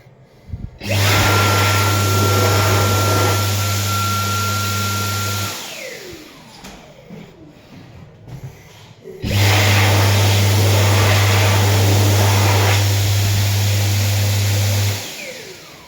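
A Dyson hand dryer in a public restroom blasts a loud, steady jet of air with a strong low hum, running twice with a quieter pause between the bursts.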